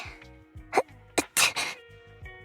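A video game character from Zenless Zone Zero sneezes in a few sharp bursts between soft breathy sounds and faint background tones, close and clear with no speech.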